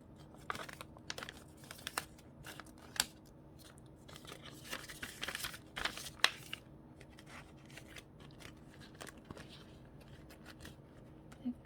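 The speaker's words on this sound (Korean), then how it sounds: "저는 M 사이즈고 퍼플 컬러 한번 뜯어볼게요." Plastic packaging around a purple size M clothing item being torn and crinkled open during an unboxing, with soft close-up rustles, crackles and scattered sharp snaps, quiet and without talk.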